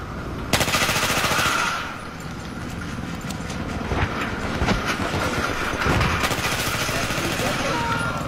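Rapid video-game gunfire rattles in dense bursts through the whole stretch, loud and close, with a voice talking over the shots.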